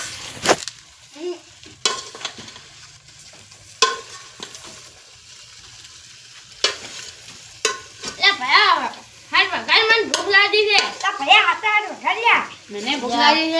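Spices tempering in hot oil, a faint crackling sizzle beneath repeated sharp clicks and stirring, while children's voices chatter loudly over the second half.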